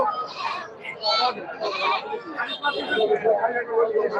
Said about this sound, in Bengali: শুধু ছাগল আর ছাগল হাজার হাজার ছাগল আছে